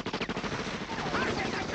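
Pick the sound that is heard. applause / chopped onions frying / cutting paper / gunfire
gunfire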